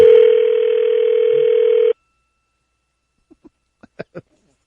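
A loud, steady telephone dial tone sounds while a radio show places a call. It holds for about two seconds and stops abruptly, then after a silence a few faint, quick clicks follow.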